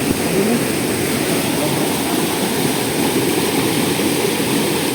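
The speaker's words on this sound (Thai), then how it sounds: "มาถึงน้ำตก" Steady, dense rush of falling water at Dao Kra Jai waterfall on a forest hiking trail, a continuous broadband roar heard close and loud with no break across the whole stretch.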